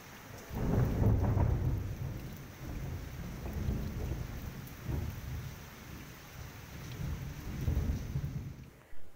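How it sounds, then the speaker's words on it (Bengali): Heavy rain falls in a steady wash while rolling thunder rumbles low and loud in several swells, with no voices. "এই যে বৃষ্টি নেমেছে আর কেমন বিদ্যুৎ চমকাচ্ছে দেখতে পাচ্ছ। তো ভাবলাম কথা বলার সাথে সাথে তোমাদেরকে একটু বৃষ্টির আওয়াজটাও শুনিয়ে দিই।"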